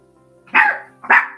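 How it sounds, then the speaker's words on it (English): Two loud, close dog barks in quick succession, sharp and alone against a quiet room as the dogs guard the house. "My dogs have heard something and they need to protect the house."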